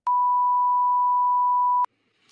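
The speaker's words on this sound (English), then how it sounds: "he's using the bleep button though. Harsh beeps." A single loud censor bleep sounds as one steady pure tone held for nearly two seconds, cutting off abruptly into near silence.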